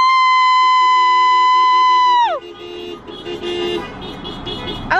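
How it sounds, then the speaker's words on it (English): Car horns honking during a Carolina Hurricanes team send-off. One loud, steady horn blast lasts about two seconds and then cuts off, leaving busy outdoor crowd and traffic noise, with another short honk right at the end. "I like how he's honking back."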